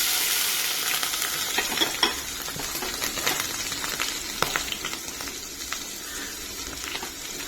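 Chopped onions and green chillies frying in oil with popped mustard seeds, a continuous close sizzle broken by frequent scraping stirs and small metallic clinks of a spoon against the pan.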